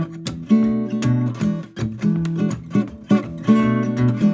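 A guitar plays a flowing jazz dominant 7th melodic line with plucked, sustained notes in a steady phrasing, close and clear, with no talking.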